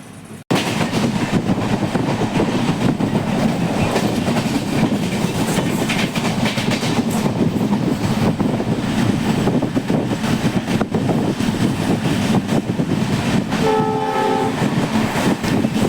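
Pamban Express train running on rails between Ramanathapuram-area stations, a loud steady roar of wheels and carriage rumble with clickety-clack throughout, and a brief horn sounding near the end.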